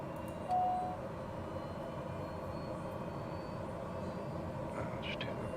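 An aircraft engine in Microsoft Flight Simulator 2020 turning over and running as a steady low drone, with a short tone near the start and no voices.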